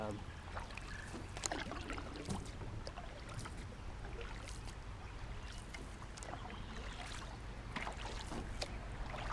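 Paddle strokes splash and drip as a boat heads upstream on a river during a race course run, soft irregular water sounds under wind, with faint speech in the background.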